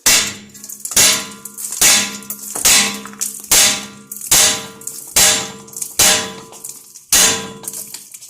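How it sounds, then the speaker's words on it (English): A hammer strikes a Jeep TJ front steering joint in a steady series of about ten loud clanging blows to knock it loose, each ringing briefly before the next, with no talking. "If you strike it just right, it'll vibrate it and knock it loose."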